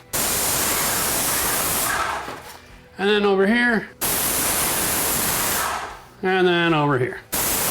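Paint sprayer hissing in long, steady bursts against wood-panel walls in a room, loud and close, stopping twice while a person speaks briefly in the pauses.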